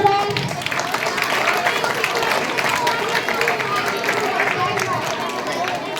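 Audience at a Saturday school quiz activity applauding the winning houses: dense, steady clapping from a crowd, close and loud throughout, mixed with a background murmur of voices.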